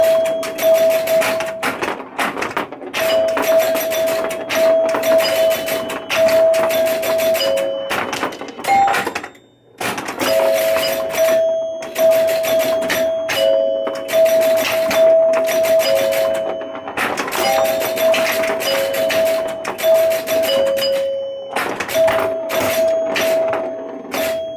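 A 1974 Williams Skylab pinball machine fitted with Gottlieb chimes, ringing out repeated bell tones amid busy clacking and mechanical rattling of play, loud and close, with a brief pause partway through.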